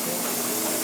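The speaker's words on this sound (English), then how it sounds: "That's a steam turbine." A running steam turbine at a steam-up event gives a loud, steady broadband hiss and whir with no pauses or beats, continuous for the whole moment.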